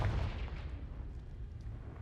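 A Confringo blasting spell goes off in Hogwarts Legacy, a deep booming burst at the start that rolls into a low rumbling decay, with no other sounds over it.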